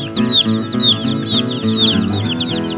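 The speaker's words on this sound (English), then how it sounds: "the loud chirping sound that you were able to guess that it was some type of bird" Many small chicks in a box chirp loudly and continuously at close range, their high peeping calls overlapping in a busy, unbroken chorus.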